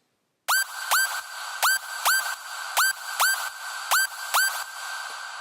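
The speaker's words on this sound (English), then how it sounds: "It's just a bit of a square and saw mixture, pitched up 12 semitones" A synth patch mixing square and saw waves, pitched up twelve semitones, plays a bright buzzy riff of short repeated stabs, each with a quick downward pitch bend, loud and alone in a steady rhythm.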